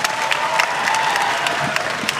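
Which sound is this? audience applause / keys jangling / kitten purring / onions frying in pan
audience applause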